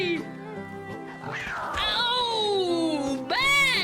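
A cat gives out drawn-out, wavering meows, loud and close, with excited voices and shouting mixed in around them.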